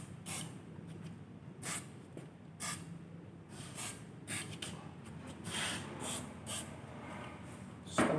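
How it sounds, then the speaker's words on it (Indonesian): Short bursts of brake fluid cleaner hiss from a spray can onto freshly sanded brake parts during a brake service. About a dozen separate bursts come close and clear over quiet workshop background, with no talking. "lalu kita semprot dengan menggunakan fluid brake di bagian yang sudah kita amplas tadi"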